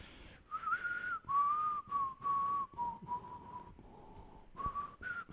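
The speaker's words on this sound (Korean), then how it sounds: "이렇게 휘파람을 부는 거예요" Someone whistles a slow, steady hymn melody, each note held and gliding gently into the next, clear and close with no talking.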